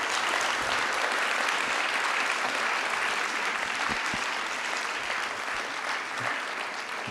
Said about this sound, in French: Merci encore Isabelle, on peut l'applaudir très fort.